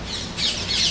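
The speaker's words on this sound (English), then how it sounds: "Wow, that was a parrot, so loud." Parrot squawks loudly and nearby, two harsh rasping calls back to back, alone without any talk.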